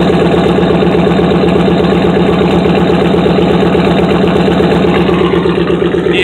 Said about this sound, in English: I can actually feel the concussion wave of the exhaust. That's how loud that is